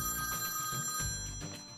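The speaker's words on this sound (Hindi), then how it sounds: "अरे आपके डैडी का फोन आ रहा है।" A telephone rings with an incoming call, a steady electronic ringtone with repeated tonal pulses sounding close and clear over a low background hum, with no voices.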